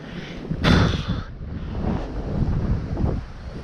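Strong wind gusts across the trout fishing waters at Spring Hill. It buffets the microphone with a loud, roaring rush that swells early on, then keeps rumbling steadily.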